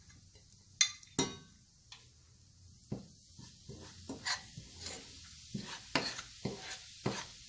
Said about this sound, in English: Let the masalas to cook on a low flame for 1 to 2 minutes.